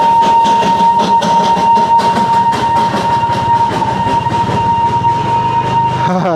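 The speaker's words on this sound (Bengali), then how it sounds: "দেখো, এটা হচ্ছে স্ট্রিম ইঞ্জিনের টয় ট্রেন।" Darjeeling steam-engine toy train running close by, a loud, continuous mechanical rumble and clatter with a steady whistle-like tone held throughout, no voices.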